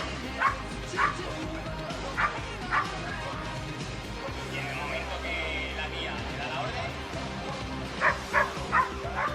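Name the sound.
dog barking and whimpering at a fire brigade canine demonstration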